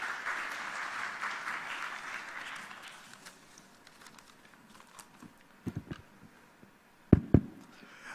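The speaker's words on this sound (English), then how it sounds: "A big round of applause, ladies and gentlemen." A burst of applause at a corporate governance awards ceremony rises and fades over the first few seconds, followed by near quiet broken by a few sharp knocks and thumps.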